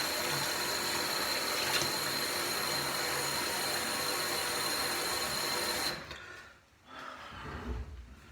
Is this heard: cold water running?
yes